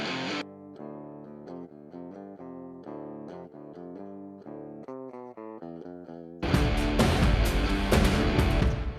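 Clean, unprocessed electric guitar lines play a plucked melodic pattern, then a thicker, noisier strummed guitar part takes over for the last few seconds.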